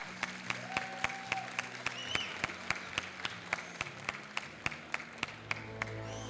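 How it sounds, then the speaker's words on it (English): Sparse, rhythmic clapping from an audience at a cosplay contest, individual claps ringing out roughly every half second against a low background hum. "Give them a round of applause."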